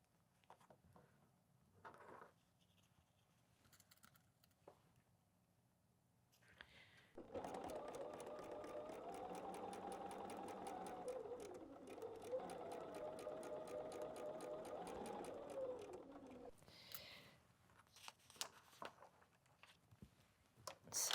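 A sewing machine runs steadily for about ten seconds stitching a patchwork seam, a fast even mechanical chatter, close and clear. Quiet handling of fabric comes before it and after it.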